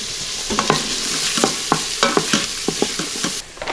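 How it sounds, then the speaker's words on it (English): Garlic sautéing in an Instant Pot, a loud continuous sizzle punctuated by rhythmic scraping and tapping of a spoon against the inner pot, close up with no talking. "I'm throwing in my garlic, and I'm just going to cook that for another minute or so."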